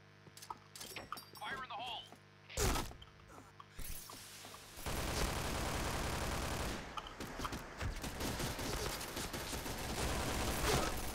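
Gunfire in the video game PointBlank: a few scattered shots early on, then a sustained, dense stretch of rapid firing that stays loud through to the end. People talk over the shooting.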